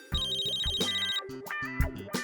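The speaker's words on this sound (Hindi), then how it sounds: "फोन।" A telephone rings with an electronic ringtone, a busy repeating electronic melody of quick tones that plays continuously and clearly up close.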